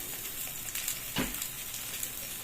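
Hawawshi fries in a little oil in a pan with a faint, steady sizzle and light crackle, plus one brief soft scrape or bump midway, quiet and close, with no talking.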